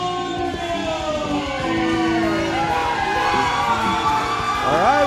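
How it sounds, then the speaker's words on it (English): A wrestling crowd cheers for Andy Monreal at a UCW-ZERO show, a sustained roar of shouts and whoops with a rising, siren-like entrance tone sweeping through near the end. "Please some noise for Andy Monreal."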